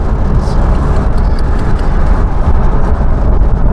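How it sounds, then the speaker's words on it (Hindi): Tata Safari DiCOR SUV with a five-speed manual gearbox, its engine pulling steadily while driving on the road, a loud, continuous low drone with road rumble and no clear rise in pitch. "और अगर इसको थोड़ा मैं रेफ करता हूँ तो आराम से ये जाती है"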